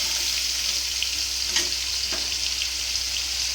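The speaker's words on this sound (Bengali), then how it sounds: "এই চিংড়ি মাছগুলো একটু নেড়ে দিই।" Small shrimp sizzle steadily in hot oil in a pan while being stirred, giving a continuous bright frying hiss with a couple of soft scraping stirs, no talking.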